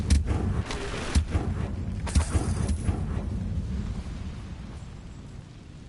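Incendio fire spell cast in the video game Hogwarts Legacy, a burst of booming, crackling blasts near the start that fades into a rumbling tail, with no talk.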